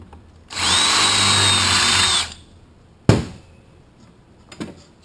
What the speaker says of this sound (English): drill right into where it's staked